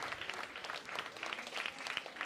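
Audience applause at a festive political rally for the 2022 French legislative election runoff, a steady dense patter of many hands clapping throughout, moderately distant with no speech over it.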